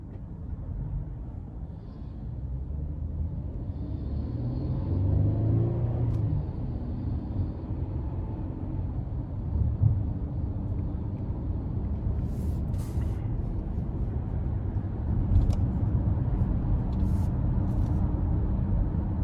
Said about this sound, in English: take this Telluride S out on the road for a test drive